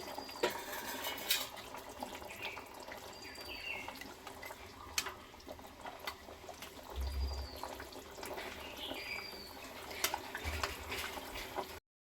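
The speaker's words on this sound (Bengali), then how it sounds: "খুব ভালো করে একবার ফুটিয়ে নিচ্ছি" Bata fish curry with potatoes bubbles in a pot, a soft continuous simmer with faint pops and gurgles, quiet and close, ending abruptly.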